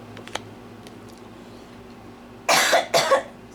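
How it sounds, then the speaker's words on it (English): Two quick bursts of coughing near the end, close and fairly loud against a quiet room, after near silence. "Excuse me, coughing on my smudge."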